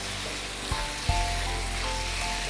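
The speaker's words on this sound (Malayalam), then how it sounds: "ചിക്കൻ്റെ പീസസ് ഇങ്ങനെ വഴറ്റിയെടുക്കാം." Chicken pieces sauté in oil already flavored by fried onions, giving a steady, moderate sizzle with a couple of soft stirring knocks early on.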